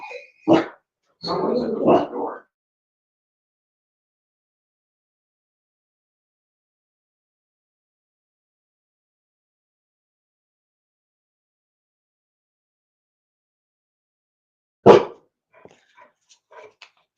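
A household dog barks a few times near the start, a short burst followed by a longer run of barks, then long silence before one more sharp bark near the end.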